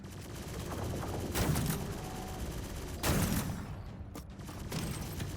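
Sniper weapon firing in the Akimbot video game, two sharp loud shots about a second and a half apart over a dense, steady roar of game noise and rattling, with no voices.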